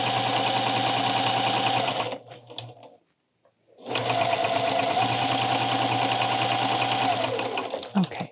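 A sewing machine stitches a hem along a yard of very fine fabric for a scarf, running in a steady loud whir, pausing briefly mid-clip, then resuming at full speed.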